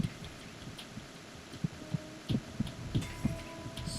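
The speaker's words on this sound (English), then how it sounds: "So many heartbeats." Heartbeat effect in the Metal Gear Solid 2 stealth game, a steady series of soft low thumps pulsing roughly every half second over a quiet ambient hum, with no talking.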